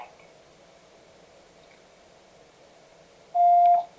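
A voicemail system beep sounds once near the end, a short clean electronic tone after a quiet stretch of faint line hiss.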